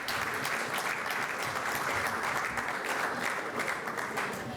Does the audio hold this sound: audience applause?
yes